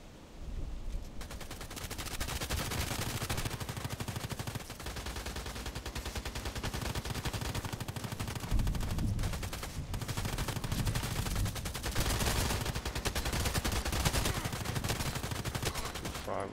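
Rapid, sustained automatic fire from an M4A1 Custom rifle in the shooter game Contract Wars, bursts running nearly nonstop at close range, loud and dense throughout.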